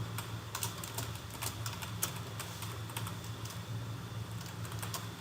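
A computer keyboard is typed on steadily as SQL code is entered, a quick run of crisp, close key clicks over a constant background hum, with no voices.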